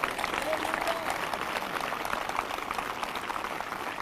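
A church congregation at a morning worship service claps steadily as dense, continuous applause, with crowd noise and voices mixed underneath.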